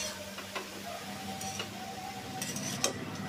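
Grated carrot and cabbage with ginger and garlic being stirred in a pan, with faint scraping and soft clinks of a utensil against the pan over a low background hum.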